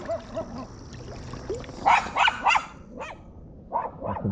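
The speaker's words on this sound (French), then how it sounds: "Ça, c'est un chien." A dog barks in quick bursts of several sharp, loud barks near the microphone, with yips and softer sounds between them outdoors by a river.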